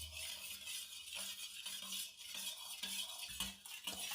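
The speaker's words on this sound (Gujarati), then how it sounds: "તો આને સરખી રીતે હલાવી લીધું છે મેં।" A metal spoon stirs sugar into water for a lemon drink, clinking and scraping against the vessel in a quick repeated rhythm; quiet and close, with no voices.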